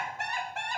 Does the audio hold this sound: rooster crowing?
yes